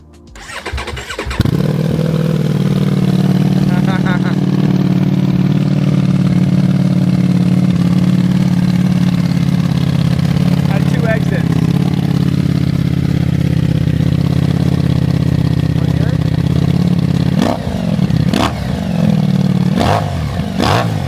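A giveaway motorcycle cranks and fires up loudly after a brief start, then settles into a steady, rumbling close idle, with a few quick throttle blips near the end.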